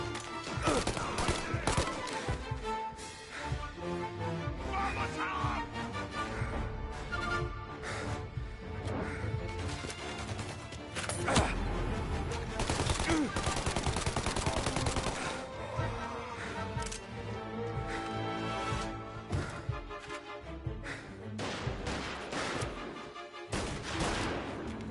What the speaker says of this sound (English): Calling all cars. Reports of gunshots rolling in.